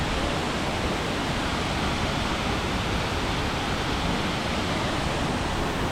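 A powerful waterfall pours over limestone in northern Laos, a loud, steady broadband roar that fills the whole clip without pause or other sounds.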